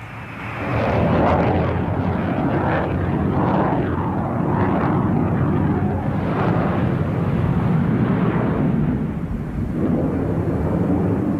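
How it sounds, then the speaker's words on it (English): A Tupolev Tu-134 airliner fitted with a rebuilt nose section flies overhead, its jet engines producing a loud, sustained roaring rumble that rises quickly and holds steady. "It's a Tu-134, a basic commercial airliner."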